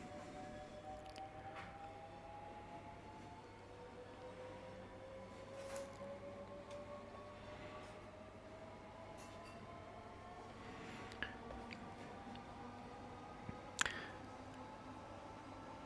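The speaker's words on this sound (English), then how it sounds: "That sounds remarkably like an American electric train." Electric traction motors of a Class 465/9 train in a simulator game, a faint whine rising steadily in pitch as the train accelerates, with light clicks and knocks scattered through.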